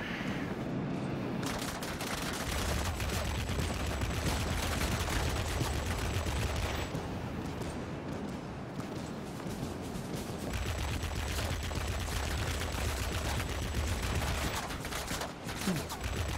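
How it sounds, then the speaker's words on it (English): Anti-aircraft guns in World of Warplanes hammer away at a ground-attack IL-40P, a dense, continuous barrage of rapid gunfire and bursts that stays loud and unbroken throughout, with brief lulls in the low rumble. "We got a bunch of things shooting us up right now."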